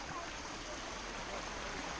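Steady broadband rush of a creek flowing along a mountain trail in the Appalachian Mountains of North Carolina, close and continuous with no distinct voices.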